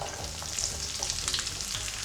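Steady sizzling of diced bell pepper frying in a pan for shakshuka, with faint scraping of stirring, continuous and moderately quiet.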